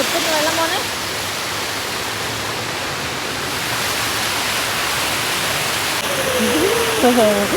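Fast-flowing stream water rushes in a loud, continuous wash from close by. Voices break in briefly at the beginning and again near the end.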